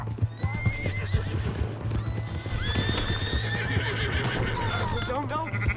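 A horse in the video game Red Dead Redemption 2 gallops with loud, close hoofbeats and gives several shrill neighs, with voices talking over it.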